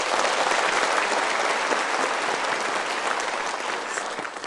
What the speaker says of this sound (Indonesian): Oke, so kita berikan tepuk tangan dulu.